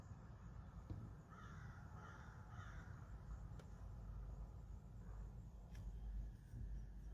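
Crows caw several times at a distance, faint and hoarse, over a low rumbling background.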